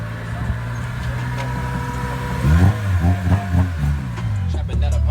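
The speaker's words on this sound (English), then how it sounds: "Next fast car come through." A fast car passes during a Honda del Sol oil change outdoors, its engine swelling loudly from about the midpoint into a revving, pulsing roar, then settling to a steady drone, with street noise around it.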